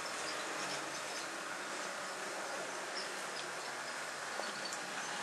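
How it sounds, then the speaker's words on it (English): A steady, even whirring hum of a small model locomotive pulling a long freight train, with faint rail clicks, moderately quiet and close. "As you can see, it'll even pull a nice long freight train."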